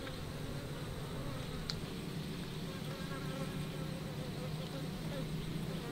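Bees on a bee farm in Ha Giang, Vietnam, give a continuous low buzzing hum around the listener, fairly faint and steady, with a soft background of outdoor noise.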